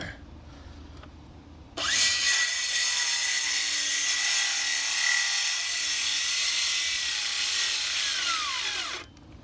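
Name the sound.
Makita cordless saw cutting scrap wood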